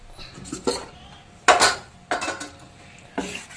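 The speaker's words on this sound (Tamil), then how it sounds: "கரண்டி எடுத்துட்டு மூடி வச்சிடலாம்" A metal ladle is lifted out of a pot of soaking semolina batter and a lid is set on top, giving several sharp metallic clanks and clinks spaced across a few seconds, close and fairly loud.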